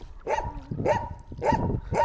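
A dog barks repeatedly, four sharp barks spaced about half a second apart, close by and fairly loud.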